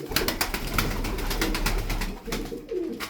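White game pigeons coo repeatedly in a coop, a steady run of soft, throaty calls close by with no talk over them.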